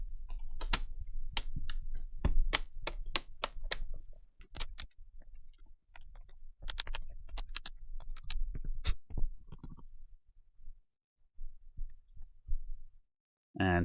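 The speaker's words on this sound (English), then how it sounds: "So we'll just go along the top and just click that all into place." Plastic display bezel on a Dell Inspiron laptop is pressed along its edge, giving a series of sharp close clicks and snaps in irregular bursts with quiet gaps between, no talking.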